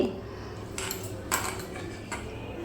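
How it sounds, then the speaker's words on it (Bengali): Red lentils are washed in a bowl with water, producing a few soft clinks and light rattles of grains and utensil against the bowl, fairly quiet and close. "এর মধ্যে জল দিয়ে এই ডালগুলো দুই থেকে তিনবার খুব ভালো করে ধুয়ে নিতে হবে"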